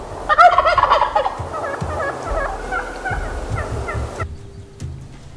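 A wild turkey gobbles in a loud, rapid, rattling burst that repeats over several seconds, close by, then cuts off abruptly.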